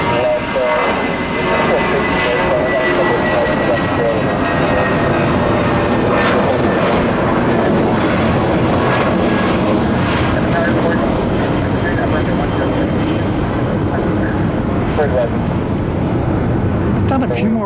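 A Boeing 757 jet airliner climbs out from Tampa International Airport, a steady broadband engine roar heard from far across the bay that holds level and continuous throughout, with faint background noise and no pauses.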